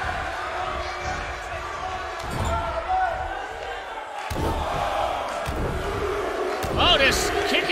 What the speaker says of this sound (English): Crowd pounding along.